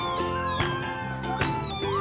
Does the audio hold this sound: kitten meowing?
yes